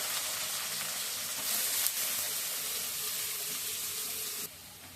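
Cabbage greens dropped into a hot pan of oil after frying potatoes, a steady loud sizzle that hisses evenly throughout and then drops off sharply near the end.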